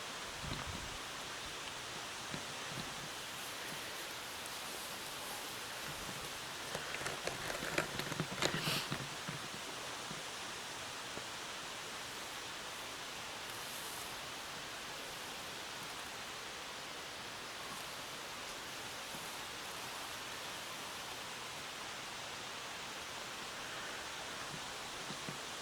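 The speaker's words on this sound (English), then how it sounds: "What sound of the brook? Yeah. Or the waterfall?" A brook and waterfall at Roche Abbey produce a steady, broadband rushing of flowing water, faint and continuous throughout, with a brief rustle midway.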